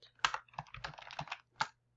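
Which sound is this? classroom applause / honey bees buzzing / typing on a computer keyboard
typing on a computer keyboard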